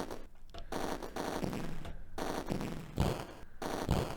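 Rapid bursts of gunfire from a shooting-gallery rail shooter on the Atari ST, Roller Coaster Rumbler, crackle in loud, close clusters separated by brief gaps, with no voices over them.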